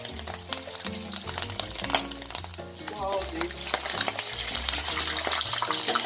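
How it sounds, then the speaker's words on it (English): Marinated turkey frying and stirred in splashing hot oil for a rosemary turkey stew, with continuous sizzling, crackling and clanking, mixed with music and background noise. "the oil was splashing all over me"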